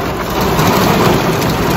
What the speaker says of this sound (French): la tempête qui s'abat autour de moi